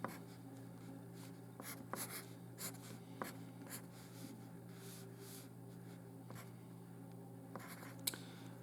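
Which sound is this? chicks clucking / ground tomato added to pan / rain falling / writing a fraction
writing a fraction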